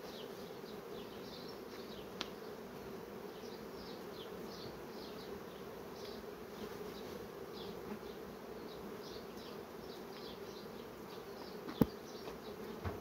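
Honeybees hum in a steady, even drone at the hive, near and continuous throughout, with a couple of brief sharp clicks near the end.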